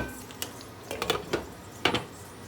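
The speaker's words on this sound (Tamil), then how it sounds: "மூடி வச்சிடலாம்." A metal lid goes onto a cooking pot of dum aloo gravy in a kitchen with a few sharp, close clinks and clatters spread over a couple of seconds against a quiet background.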